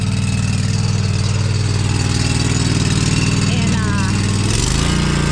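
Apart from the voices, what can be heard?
small lawn mower running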